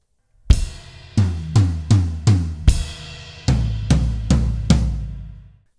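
A linear drum fill played up close: a ride cymbal crash, four quick rack tom hits, another ride cymbal strike, then four deeper floor tom hits ringing into a fading tail.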